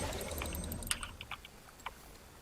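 Computer keyboard being typed on during League of Legends play: a scattering of light, crisp key clicks at close range, irregular and quick, with a few sharper taps standing out, no voices present.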